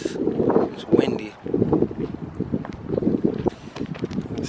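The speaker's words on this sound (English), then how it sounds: "It's windy." Blustery wind buffets the microphone in low rumbling gusts, with a person talking over it outdoors.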